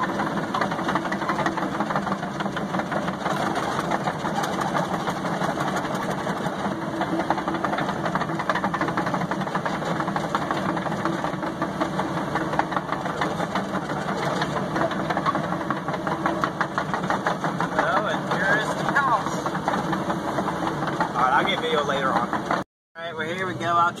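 Excavator engine running steadily while digging out a house basement, a continuous mid-pitched diesel drone with knocking vibration throughout, close and loud, briefly cutting out near the end.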